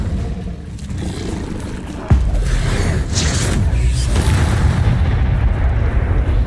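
Incendio fire spell cast in Hogwarts Legacy, a sudden whooshing burst that swells into a roaring rush of flame, loud and close, continuing for several seconds.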